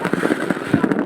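New Year fireworks bursting over Greenland, a dense run of booms and crackling pops close together, with a voice briefly audible among the blasts.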